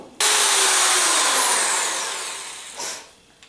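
Power drill with a masking-taped bit boring into a granite countertop, a loud whining drone starting abruptly, slowly dropping in pitch and volume, with a brief surge near the end before winding down.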